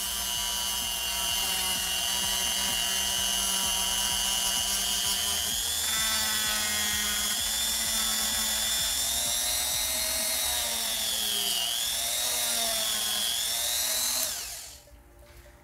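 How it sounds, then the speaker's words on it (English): A Hyper Tough rotary tool cutting plastic makes a loud, continuous high-pitched whine with slight pitch wavers as it bites into the material, then winds down abruptly near the end. "make sure that you have a firm grip on the tool and then power it on. And then we're just going to cut this plastic."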